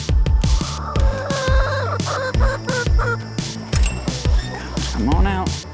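Backyard chickens cluck in short, repeated bursts close by, with a voice calling to them throughout and some higher squawking toward the end.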